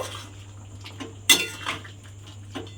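A spoon knocks and scrapes against a metal pan while garam masala and ghee are stirred into a flour dish, a few soft taps and one sharper clang over a steady low hum.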